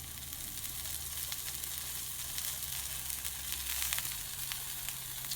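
A rib eye steak sears in a hot pan with its edge being sealed, giving a steady, even hiss and crackle that runs throughout, fairly soft and with no talking.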